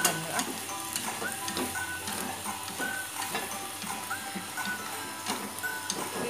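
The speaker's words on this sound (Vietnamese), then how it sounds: "Xào cho cái măng của mình nó ngấm gia vị được khoảng 5 phút thì bây giờ mình sẽ đảo" Bamboo shoots being stir-fried with seasoning in a pan, giving a steady close sizzle with repeated scraping and stirring clatters throughout, no talk over it.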